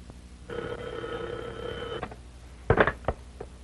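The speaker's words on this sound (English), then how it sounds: "The way that phone's been ringing" An old-fashioned office telephone bell rings in one sustained, steady burst lasting about a second and a half, then stops, followed by a few sharp clunks like a receiver being picked up.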